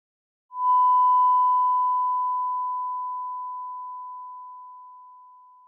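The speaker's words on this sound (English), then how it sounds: "If I gradually decrease that tone, at some point it will fall outside of your hearing range." A single pure steady 1000 Hz test tone begins abruptly and slowly fades in loudness over several seconds, alone in silence.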